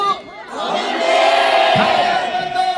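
A crowd at a university festival at Seokyeong University, waiting for a singer, shouts together, swelling quickly into a loud, sustained roar of voices.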